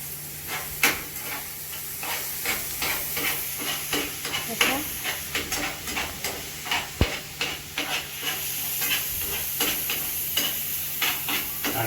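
Spice tempering sizzles in a pan while desi Maggi noodles are cooked, with rhythmic stirring clicks and scrapes over a steady hiss and a faint low hum.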